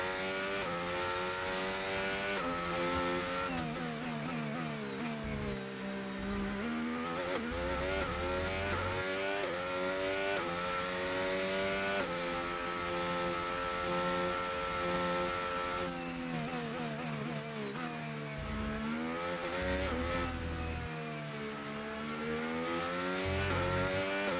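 Race car engine in the F1 25 video game during career mode, a continuous high-pitched whine that rises and falls repeatedly with gear shifts and braking for corners.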